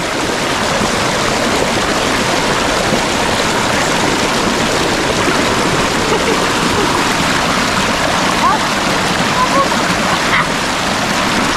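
A strong river current rushes steadily with broad, continuous water noise throughout, loud and close, with occasional splashes and faint shouting voices underneath.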